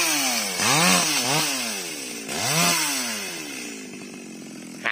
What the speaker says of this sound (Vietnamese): Bây giờ có anh cưa bỏ nha